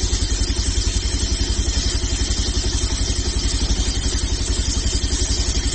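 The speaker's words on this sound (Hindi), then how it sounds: "और अगले 30 सेकंड के लिए इंजन को आइडल पे रखना है।" A Bajaj Pulsar 150 idles after throttle body cleaning, its single cylinder thumping in a quick, regular pulse that stays close and even throughout, with no voices.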